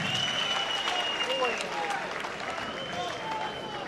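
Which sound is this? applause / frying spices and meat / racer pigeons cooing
applause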